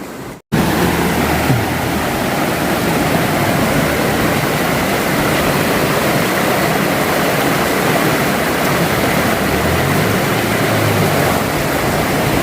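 Waterfall near a campsite, a steady broadband roar of falling water running loud and unbroken for the whole stretch after a brief cut at the very start.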